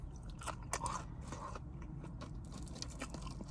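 Someone eating crunchy Chick-fil-A fries, soft close crunching and chewing bites over a steady low background hum, fairly faint.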